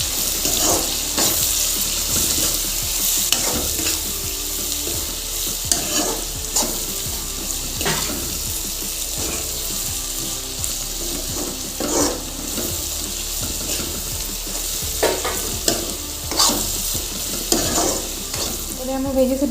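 Vegetables being stir-fried in a pan for veg chowmein, a steady loud sizzle with repeated scraping stirs of the spatula throughout, no talking.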